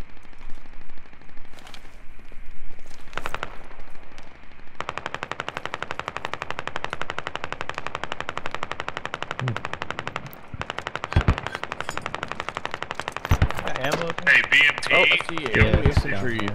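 Sustained machine-gun fire rattles almost continuously in the Squad video game, Middle East Escalation mod, with scattered louder single gunshots and bursts on top, plus faint voice chat in the background.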